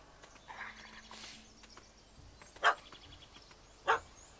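Two short, sharp barks ring out from a dog in The Witcher 3 video game, spaced about a second apart, fairly close, over a quiet ambient game background.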